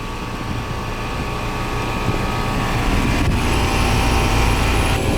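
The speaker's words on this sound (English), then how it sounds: "Alright, so the fan's running. The compressor's running." A 4-ton heat pump outdoor unit running with its fan and compressor on, giving a steady loud broadband whir and hum that holds constant throughout, with no voices.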